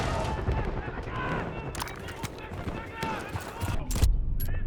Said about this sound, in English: Gunfire on the left.